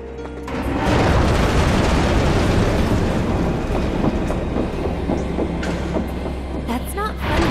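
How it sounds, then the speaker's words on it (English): A train pulling out of the Sector 7 slums station in the video game Final Fantasy VII Remake, a loud, sustained rumble with rhythmic clickety-clack and metallic squeals; a recorded announcement voice speaks over it. "The train will be... Please stand clear of the closing door."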